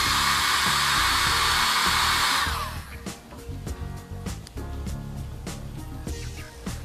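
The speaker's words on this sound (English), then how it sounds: "Heat the adhesive side for 2 to 5 seconds." A heat tool blows a loud, steady hot-air roar while it warms the adhesive side of a nail wrap, then cuts off, leaving fainter room noise and light handling.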